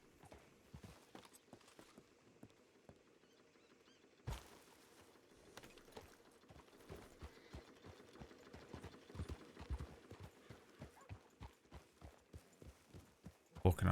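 Steady clip-clop of horse hooves walking at an even pace in a video game, a continuous rhythmic patter with faint background ambience and no talking.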